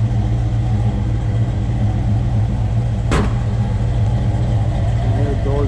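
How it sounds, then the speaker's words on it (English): A restored 1965 Ford Mustang GT Fastback idles with a steady, deep exhaust rumble close by, broken once by a brief sharp click or knock, with a voice starting up near the end. "Listen to the exhaust."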